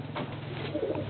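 Racing pigeon cooing inside a breeding loft, a few soft low coos close by over a steady low background hum.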